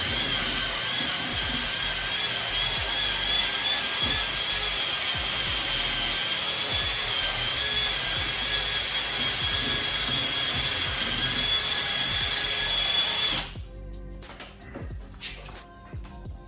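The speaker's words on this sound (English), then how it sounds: "we're just using a like a Brillo pad on the drill" Drill fitted with a Brillo-style scouring pad scuffing paint on a Land Rover Series 2A floor panel, a loud, steady abrasive whir with a high whine that runs for about thirteen seconds, then stops abruptly, leaving faint clatter.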